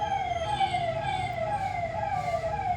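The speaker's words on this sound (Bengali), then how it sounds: "অ্যাম্বুলেন্স যাচ্ছে আর এটার আওয়াজ শুনে কেমন ভয় লাগে" An ambulance goes by with its siren wailing in a steady rising and falling tone, loud and continuous above a low traffic rumble, with no voices.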